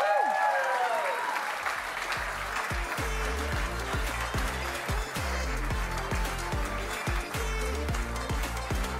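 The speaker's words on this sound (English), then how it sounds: "It's a big round of applause for Emily Mannix" Sustained applause from a large crowd at a netball awards night honouring a player's 150 games, with a thumping rhythmic music beat starting under it and some voices mixed in.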